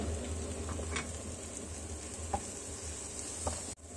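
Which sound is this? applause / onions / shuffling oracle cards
onions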